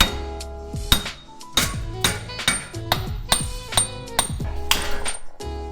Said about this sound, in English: we can give it a couple love taps and it should pop right off